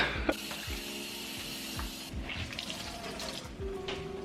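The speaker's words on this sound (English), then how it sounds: "Before you start, you have to soak the fabric in cold water." Running water splashes and gurgles as a white t-shirt soaks in cold water in a sink before turmeric tie dyeing, with soft faucet-like flow, small sloshes and a few light knocks, fairly quiet.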